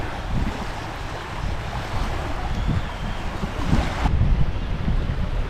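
Strong wind buffets the microphone at a low-tide shoreline, a loud rushing roar mixed with breaking surf, gusting unevenly with no voices.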